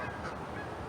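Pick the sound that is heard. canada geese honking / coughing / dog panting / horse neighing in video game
canada geese honking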